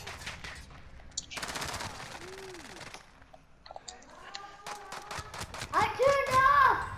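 Gunfire in the video game Warzone: rapid automatic bursts and single shots crackle in the foreground, mixed with a player's excited speech and in-game effects.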